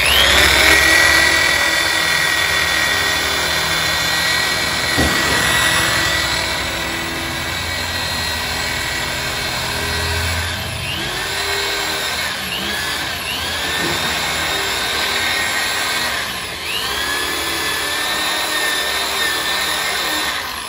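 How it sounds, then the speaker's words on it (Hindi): An electric drill machine bores a hole with a loud, steady high-pitched whine that keeps running throughout, its pitch sweeping and dipping several times as the bit works through the material. "तो गाइस आप लोग देख सकते हैं ये हमारा ड्रिल मशीन से छेद हो गया है।"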